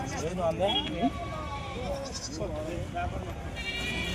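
Pregnant goats bleat in short, wavering cries at Chillakallu livestock market in Andhra Pradesh, several calls close by, with people talking throughout and a steady crowd hubbub behind.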